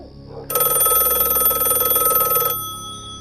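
A landline telephone bell rings loudly and steadily for about two seconds, then cuts off, leaving a quiet room tone.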